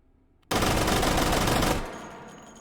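A Vector .45 SMG in the VR shooter H3VR fires one sustained full-auto burst, a loud, dense rattle of rapid shots that stops abruptly and leaves a short fading echo.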